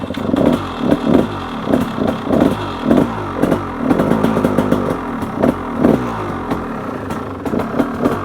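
A KTM 300 XC dirt bike engine revs repeatedly while warming up, loud and close, with sharp throttle blips and a steady rattling idle between them over about eight seconds.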